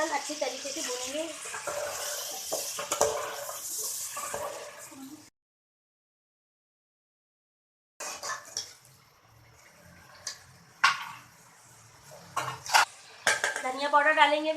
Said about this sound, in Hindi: गोश्त और अदरक लहसुन अच्छी तरीके से भूनेंगे।